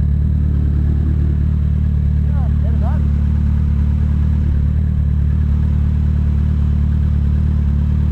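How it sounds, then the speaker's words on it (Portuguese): A steady low engine rumble, like a motorcycle idling close by, running continuously with a brief faint squeal partway through. "Ô, alto motoca. Que moto que é, Carlinhos?"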